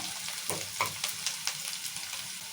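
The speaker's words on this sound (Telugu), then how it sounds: "ఉల్లిగడ్డలు జర మగ్గాలి ఇలా మంచిగా నూనెలా" Onions softening in hot oil give a close, steady sizzle with irregular spatters and a few louder crackles and stirring scrapes. No one speaks.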